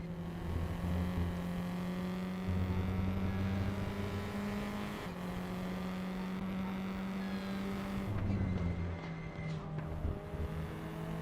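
F4 Tatuus open-wheel race cars lap TT Circuit Assen in the RaceRoom racing game, a sustained droning engine note holding steady with pitch shifts and a brief dip around gear changes, no talking.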